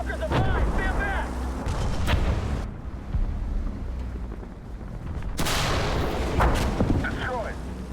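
M50 Ontos tank destroyer firing its guns in the War Thunder video game: heavy, booming blasts ring out one after another, loud and close, with rumbling battle noise between the shots.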